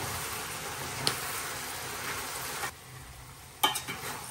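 Meat cooks in a pot with ginger, garlic, cumin and coriander, giving a steady sizzle broken by a couple of sharp scraping clacks from stirring, close and moderately loud.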